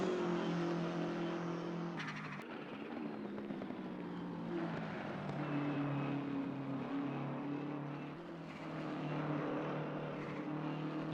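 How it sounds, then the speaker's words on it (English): A race car in Assetto Corsa Competizione running over the curbs and tires, its engine a sustained, moderately loud whine that shifts pitch as it drives on, with a brief bump near the start. "You see how the car rolls over the tires now."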